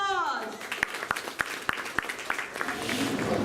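An audience at a school performance gives a round of applause, a steady patter of many hands with a few sharper claps standing out, continuing under light background voices.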